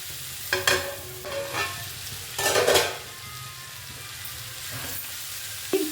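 Broad beans frying in a pan on low heat, a soft continuous sizzle broken by a few sharper bursts of stirring and scraping, close and moderately quiet with no talk.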